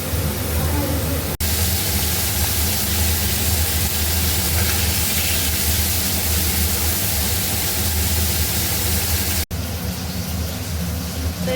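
Fish sizzling as it is laid into hot oil in a pan, a loud, steady frying hiss that fills the clip with a brief break near the start and end; no speech is audible over it.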